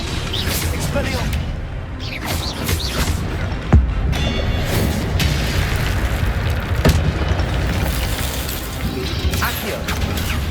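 An Expelliarmus spell cast in Hogwarts Legacy lands as a brief bright crack within a dense, loud game soundscape of rumbling effects and booms, with a voice speaking over it.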